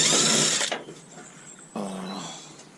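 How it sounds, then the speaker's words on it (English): A power drill backs screws out of combi boiler parts during copper recovery, giving two close, loud bursts of motor whirring with a short, quieter pause between them. "Just with my drill and literally just under the screws."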